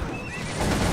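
Horses of mounted chasseurs in the Cossacks 2 battle game: a loud close neigh rising over a dense rumble of hooves and battle noise, about a second long.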